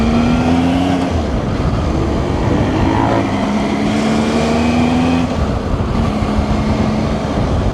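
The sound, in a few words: motorbike riding, engine and wind with visor open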